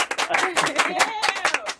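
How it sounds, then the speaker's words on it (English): Brief applause from a small podcast audience, a short burst of scattered claps mixed with voices and laughter. "I need applause. Applause."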